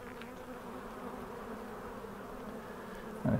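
Field bees hum over the comb of an open hive, a dense steady buzz close by, ending in a short louder bump of handling.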